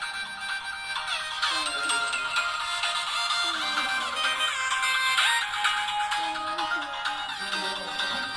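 Music plays through the small built-in speaker of an HW8 Ultra smartwatch, a bright, tinny melody that continues steadily for the whole stretch with no talk over it.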